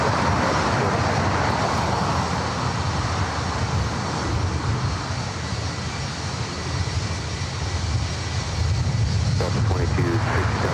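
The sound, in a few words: United Boeing 757-300 airliner, Honolulu flight 1431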